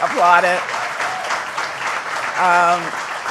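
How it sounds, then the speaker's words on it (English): An audience at a White House environmental justice summit applauds in a steady wash of clapping, while a speaker's voice cuts in over it at the start and again near the end. "yes, applaud it"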